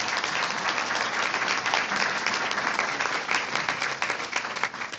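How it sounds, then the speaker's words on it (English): Steady, dense audience applause fills a chamber of commerce awards luncheon, sustained and loud throughout with no break. "give a big round of applause"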